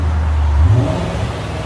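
A 2003 Ford Thunderbird 3.9L V8 with a Borla S-Type dual exhaust gives a single loud, close rev, the engine note rising sharply then holding as a deep rumble.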